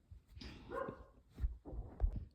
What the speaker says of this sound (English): The damn dog.